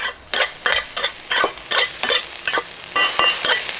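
Minced pork is stirred in a frying pan, loud and close, with rhythmic scraping strokes of a utensil against the pan about every half second over a light sizzle.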